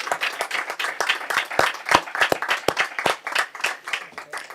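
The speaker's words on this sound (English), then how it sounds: "Let's give them a round of applause," Audience applause at a city council briefing honoring the Mayor's Youth Council: sharp, distinct hand claps in a fairly sparse, uneven rhythm, close and clear, with no talking over it.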